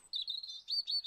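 Birds in the trees chirp in the 1994 PowerMonger strategy game on Sega CD, a quick run of high, thin warbling tweets, clear and alone at a modest level.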